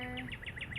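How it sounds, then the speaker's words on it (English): A bird chirps in a quick repeating series of short high tweets, fairly faint over a soft outdoor background. "You might hear some birds chirping."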